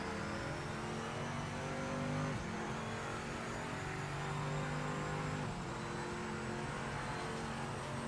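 Porsche race car engine in the Project Motor Racing video game, holding a steady loud drone with shifting pitch as it revs, continuous and close for the whole stretch.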